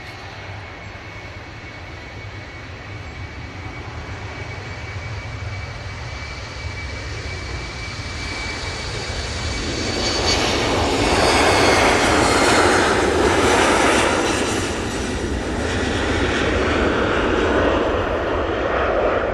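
Airliner departing Manchester bound for Amsterdam Schiphol, a low engine hum building into a loud takeoff roar about halfway through, then fading slightly as it climbs, with no talking.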